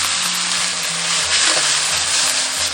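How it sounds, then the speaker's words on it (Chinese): Razor clams fry in hot oil with shredded ginger in a wok, giving a loud, continuous hissing sizzle up close with slight stirring movement and no talking. "爆香后下入蛏子"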